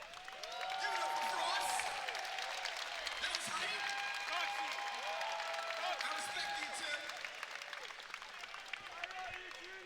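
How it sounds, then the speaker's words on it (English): A crowd at a Mortal Kombat 11 fighting game tournament, CEO 2019, applauds and murmurs in a diffuse wash of clapping and voices, fairly distant and moderately quiet, with talk mixed in. "A round of applause"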